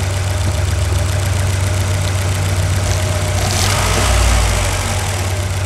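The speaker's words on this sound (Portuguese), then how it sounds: "Vamos escutar essa melodia do Jeep, do motor, do Jeep." A Jeep Renegade's gasoline engine, serviced for a water pump leak, idles steadily and close by, a continuous low rumble with a slight swell in loudness near the end.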